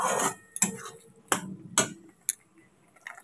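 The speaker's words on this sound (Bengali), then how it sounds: "এটা দিয়ে একটু কষাবো।" Cashew-poppy seed paste sautéed and stirred in a pan of oily spice mix: a spoon scrapes and knocks against the pan in several distinct, separated strokes, close and crisp, with a soft sizzle between them and no talk.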